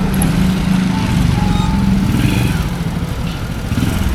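Honda Win motorcycle engine idling after an oil change, a steady close rumbling putter held evenly throughout with no talk over it.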